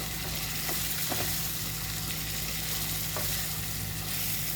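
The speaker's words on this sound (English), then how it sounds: "and you just stir it a little bit" Food being stirred in a pot during home cooking, with a steady sizzling wash and a few faint scrapes and clicks of the utensil, close and continuous with no voices.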